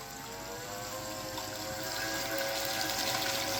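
A small water pump hums steadily, its motor whine and gushing water flow continuous and growing slightly louder.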